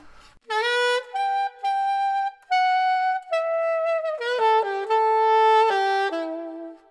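Alto saxophone plays the hard high phrase of a tune slowly: a series of clear sustained notes, some held and some stepping quickly, close and loud with no other sound.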